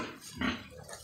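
A single short, close grunt comes from a pig in a piggery where mother pigs and their baby piglets are kept.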